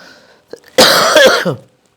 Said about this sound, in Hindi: थोड़ी खांसी रहेगी लेक्चर के दौरान, इसको अवॉइड करें।